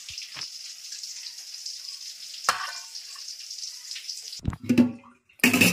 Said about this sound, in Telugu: కొంచెం మిరప్పొడి, ధనియాల పొడి, తెల్లగడ్డ, తెల్లబట్టి ఇందులో వేసుకుని కొంచెం వేగనేయాలి.